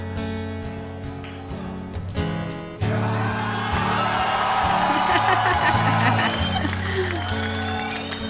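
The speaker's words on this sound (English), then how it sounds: "I love hearing the crowd" A crowd cheers and applauds, swelling in loudly after a quieter opening and holding as a dense, steady roar of clapping and whoops over music for several seconds.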